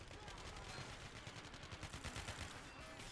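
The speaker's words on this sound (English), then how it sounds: "We're taking heavier fire now." Video game gunfire in a police street-defense battle with GIGN operators, rapid bursts of shots rattling fairly steadily under a soft background, with a voice faintly present.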